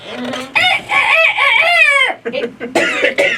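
A rooster crows loudly and up close in one long cock-a-doodle-doo, followed by a few short clucking bursts.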